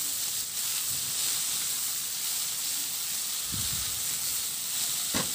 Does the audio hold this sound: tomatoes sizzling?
yes